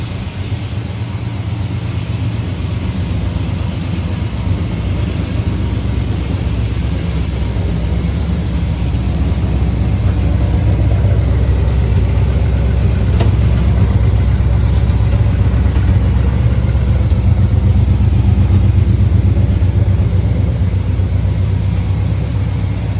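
A Chevy 350 V8 in a truck idles steadily, heard up close by the exhaust, a loud continuous low rumble that holds even for the whole stretch with no talk over it.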